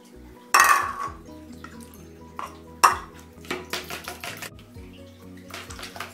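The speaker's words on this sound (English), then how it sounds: "we will then mix the wet ingredients into the dry ingredients." Wet and dry empanada dough ingredients stirred together with a spoon in a bowl: irregular clinks and scrapes of the spoon against the bowl, with soft wet sloshing between the knocks.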